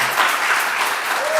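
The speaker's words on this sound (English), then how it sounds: "That's okay, you can applaud." A church congregation at a Sunday service bursts into brief, full applause, a dense patter of many hands clapping that stays steady throughout.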